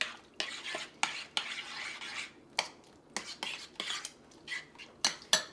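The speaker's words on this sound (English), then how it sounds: "Now, I'm going to mix" A spoon mixes overnight oats ingredients in a container, making a run of repeated scraping and clinking strokes in an uneven rhythm, close and fairly quiet, with no voice over them.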